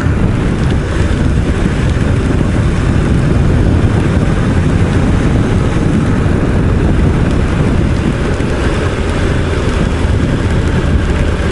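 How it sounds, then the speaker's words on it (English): Steady, dense hiss of rain on Whanganui River Road, loud and continuous throughout, with a low rumbling roar underneath from a motorcycle ride and no voices. "Okay, so it's raining now. We'll call that rain."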